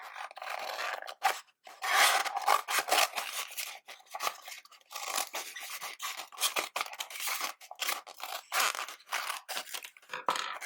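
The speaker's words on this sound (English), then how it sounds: "grab your party hat and just snip off the top a little bit" Scissors snip through the top of a paper party hat in repeated short, crisp cuts with small rustling scrapes between them, close up and alone in an irregular rhythm.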